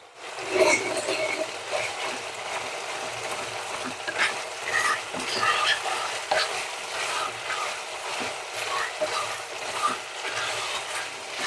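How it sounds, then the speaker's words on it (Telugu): Chicken fries in a pressure cooker with curry leaves and ginger-garlic paste, giving a steady crackling sizzle with scattered pops and the scrape of stirring, and no talk. "చికెన్ కూడా చక్కగా ఫ్రై అయింది"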